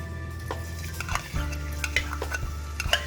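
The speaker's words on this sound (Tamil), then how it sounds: "நல்லா சாப் பண்ண பூண்டு பொரிய விடுங்க" Chopped garlic fries in hot sesame oil with a soft, quiet sizzle, while a spatula scrapes and clinks against the pan in irregular strokes close by.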